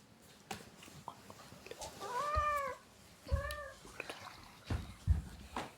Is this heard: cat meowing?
yes